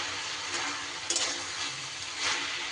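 Spinach sizzling in a pan over a lowered flame without added water, a constant frying hiss with a few soft scraping stirs and light clatters, close and unbroken.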